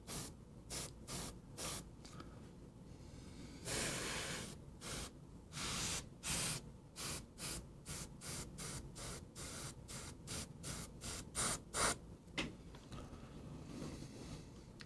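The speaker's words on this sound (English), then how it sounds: "But then I can always go back to the airbrush, right? To kind of blend it in." An airbrush sprays paint onto a miniature figure in short hissing bursts, a rapid series of close, soft, breathy spurts separated by brief pauses, with one longer spray in the middle.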